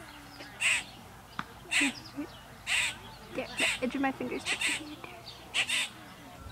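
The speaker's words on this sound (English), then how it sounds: "How cute are those baby birds? Just squawking away." Baby birds in a tree give repeated loud, harsh squawking calls in short bursts, fairly close, with a person speaking briefly among them.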